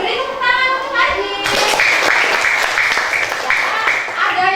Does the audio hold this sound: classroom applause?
yes